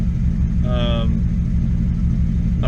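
Straight-piped BMW Z4 with headers and a freshly installed motor running after first start-up, a loud, steady, throbbing low rumble close by, with a person talking over it.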